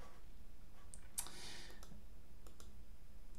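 A computer mouse clicks a few times, sharp close taps spaced unevenly over a faint room hush, with no talking.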